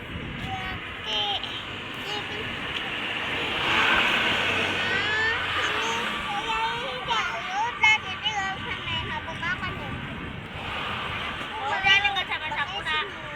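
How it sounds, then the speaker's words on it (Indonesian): A bus and cars pass along a toll road at night, a broad whoosh swelling and fading at moderate distance while people chat nearby over the traffic. "Tuh, mobil bus."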